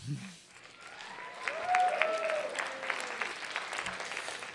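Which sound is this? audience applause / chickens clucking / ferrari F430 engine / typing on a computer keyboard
audience applause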